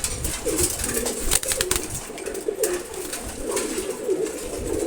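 Masti racer pigeons on a pigeon farm coo in a steady, overlapping chorus close to the microphone, with soft murmuring calls running throughout and no talking.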